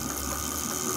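A new 50 kW zero-cogging generator runs with a steady, even mechanical hum and whir at close range, unbroken for a full second.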